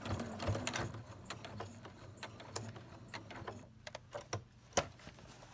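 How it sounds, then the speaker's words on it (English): A sewing machine runs in steady clattering bursts while stitching down the side seam of a zippered pouch, with soft mechanical ticks and a low motor hum. It is close and moderately quiet, with short pauses where the fabric is pivoted. "Pivot, sew down the side seam"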